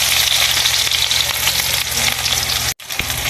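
Garlic and onion frying in hot oil and stirred, for a radish kilawin dish: a loud, dense, close crackling sizzle with a low bubbling rumble, briefly cut off near the end before resuming.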